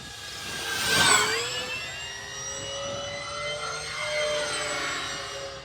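An electric RC P-51D June Nite V2 model plane with a 1.2 m wingspan, on a 4S 2200 mAh battery, takes off and flies past. A rising whine swells close by, then holds as it climbs away, with no talking.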